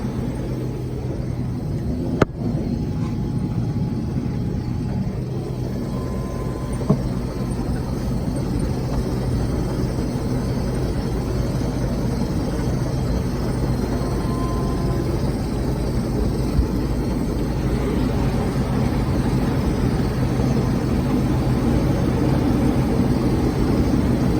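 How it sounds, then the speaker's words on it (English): Case 2188 combine harvester with a 6-row corn head and about 280 horsepower, harvesting dry corn at about 5 miles an hour; a steady, loud, low engine rumble drones on without a break. "Here, combining corn now. 2188 case combine, 6-row head."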